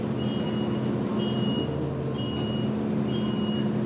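Heavy weekday traffic on a Taipei street, with trucks and cars rumbling steadily close by and a truck's reversing beeper sounding at regular intervals above the constant engine drone.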